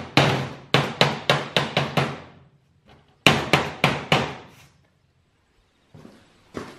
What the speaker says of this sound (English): I'm just going to put some more nails around the edge now.